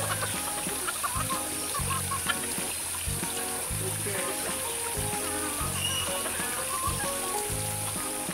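Chickens cluck at a bird park in Dago, Bandung, among other birds and trickling water, with a busy, steady, repeating background throughout and faint talk.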